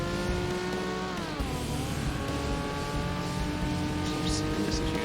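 A DSM car in the 2005 Forza Motorsport racing game drones under a steady, loud engine tone that drops in pitch as it slows for a chicane, with tire scrub underneath and no break in the sound.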